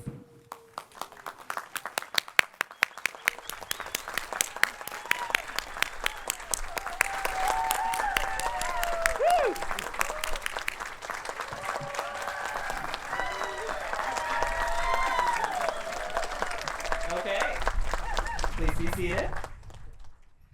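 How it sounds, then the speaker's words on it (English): A large audience at a university commencement ceremony breaks into applause, starting with scattered rhythmic clapping that swells into sustained dense clapping, with voices and cheers mixed in throughout. "let us show them our thanks with a round of applause"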